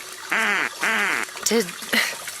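A person imitating a duck, with two drawn-out nasal quacks followed by a couple of shorter ones, loud and close against faint background noise.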